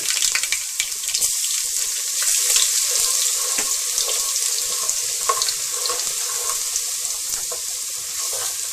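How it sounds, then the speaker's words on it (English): Crushed garlic fries in a pan of hot oil for a Mangalorean chicken curry, giving a loud, continuous sizzling hiss with small pops and crackles throughout. "Add crushed garlic."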